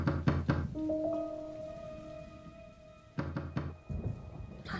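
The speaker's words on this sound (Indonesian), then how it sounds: "tiba-tiba terdengar pintu rumah diketuk" Knocking on a house door: two bursts of several quick dull knocks, one at the start and another after a pause, against a quiet background with a faint lingering tone.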